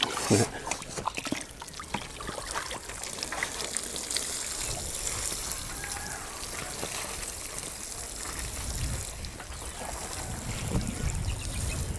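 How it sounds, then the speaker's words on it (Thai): Water trickling and splashing from a watering can onto straw mushroom beds outdoors, a steady close dribbling wash lasting several seconds with faint voices in the background. "ขั้นตอนต่อไปก็คือรดน้ำนะครับ ใส่บัวรดน้ำ"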